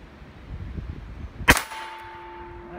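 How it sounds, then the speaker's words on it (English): A single sharp shot cracks from a Rohm RG10 revolver fired at a target, loud and close, followed by a brief ringing tone after light rustling. "So let's put a few rounds through, see if we can hit the target."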